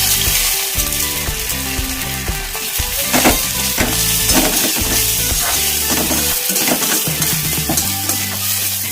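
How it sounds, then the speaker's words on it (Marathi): Onion fries in a pan while preparing kala masala vangi bhaji, a loud steady sizzle with clinks and scrapes of stirring throughout, close up and without talking. "आता आपण कांदा तळून घेऊ."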